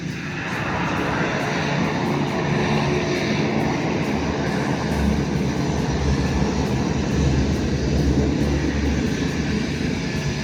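A Pacific Coastal Airlines Beechcraft 1900 turboprop arrives with a loud, sustained engine roar and a low droning hum that holds steady throughout, fairly near.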